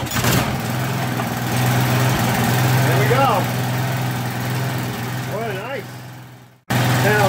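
A Briggs & Stratton OHV engine on a Craftsman 2700 psi pressure washer runs with a loud, steady droning idle, accompanied by a few squeaky chirps, then briefly cuts out near the end before roaring back.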